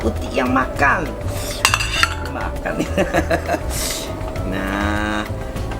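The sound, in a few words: stirring cooking largehead hairtail fish in a pan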